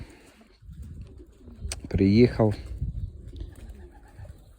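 A racing pigeon coos nearby in a short rolling burst, with someone speaking briefly and quiet background sounds around it.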